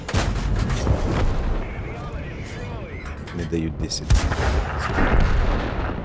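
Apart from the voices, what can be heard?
artillery fire in War Thunder video game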